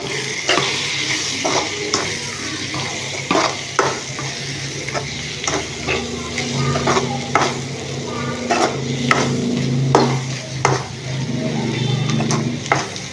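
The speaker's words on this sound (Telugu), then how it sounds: "తర్వాత ధనియా పౌడర్ తర్వాత గరం మసాలా పౌడర్ వేసుకొని కలుపుకున్నాము" Onion masala with coriander and garam masala powder being stirred in a pan, a steady sizzle under repeated scraping strokes of a spoon against the pan, close and continuous without speech.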